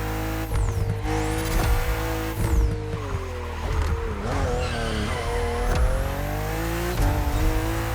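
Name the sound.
BMW M2 and M4 cars racing in video game The Crew Motorfest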